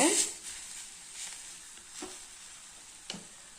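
Grated coconut is stirred into sautéed ingredients in a hot pan for coriander chutney, giving a soft, close sizzle broken by a few scraping strokes of a spoon.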